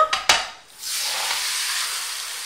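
Spanish tortilla sizzling in a frying pan: two short clanks of the pan, then a steady hiss of frying that swells and holds, moderately loud and close, with no talking.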